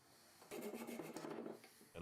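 Sandpaper rubbing wooden dowels fitted in an axe head, a close quiet rasping scrub in a quick back-and-forth rhythm for about a second and a half, with a brief second stroke at the end.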